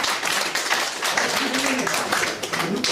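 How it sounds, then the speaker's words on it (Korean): A student group at a camp gives a classmate a round of applause, brisk, fairly loud clapping from many hands that continues steadily, with a voice briefly audible underneath. "힘찬 박수 부탁드립니다"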